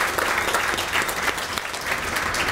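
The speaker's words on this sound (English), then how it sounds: "Let's give another round of applause for our class of 2018 retirees." Sustained audience applause at a retirement reception, a dense wash of clapping honouring the retiring class, steady and fairly loud throughout with no voices on top.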